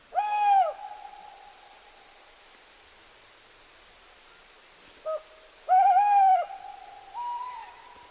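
Owl hooting in a quiet setting: a long clear hoot with a short follow-up, then after a pause a small call and another long hoot sequence.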